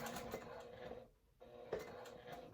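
A semi-industrial Juki sewing machine runs in quiet rapid bursts while top stitching, its needle chatter breaking off briefly in a short pause before resuming.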